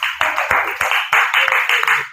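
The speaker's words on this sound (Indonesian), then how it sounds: "Kita kasih tepuk tangan untuk Anis." Classroom of students giving a short burst of applause for a classmate, made of quick, uneven handclaps lasting about two seconds, close and fairly loud.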